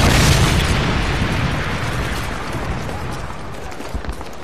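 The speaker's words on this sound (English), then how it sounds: "Friendly Predator missile inbound." A Predator missile strike explodes in Call of Duty: Modern Warfare 3 multiplayer. It is a loud, close, rumbling blast that starts at full force and slowly fades over several seconds, with no voices.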